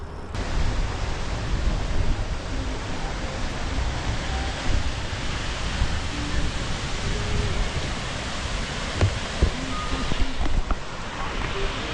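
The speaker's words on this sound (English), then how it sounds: "A nice artificial waterfall for you." A steady broad rush of water falls from an artificial waterfall along a riverside bike route in Korea. It is heard continuously and fairly loud, mixed with wind buffeting on the microphone, with no voices.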